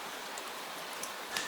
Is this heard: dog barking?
no